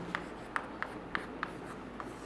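Pen strokes on paper while chemistry notes are written, about six short scratchy marks at irregular intervals against a quiet, faintly humming room, with no voices.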